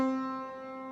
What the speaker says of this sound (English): Now on the piano, it'll sound like this.